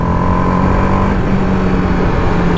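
A TVS Apache RR 310 BS6 motorcycle runs loud and close in track mode, its engine holding a steady, buzzy drone with a shifting tone partway through, no voices over it.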